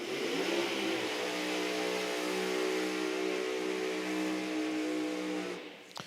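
A nitro drag racing car engine roars loudly and steadily for several seconds at a drag racing event, a harsh, sustained revving drone that cuts off abruptly near the end.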